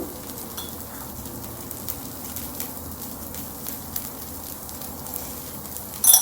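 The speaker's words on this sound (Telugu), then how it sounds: "చలో మంచి ఫ్రై అనేయండి" Carrot onion uttappam frying in oil on a pan, a steady soft sizzle and crackle close by, with faint pops scattered throughout and no talking.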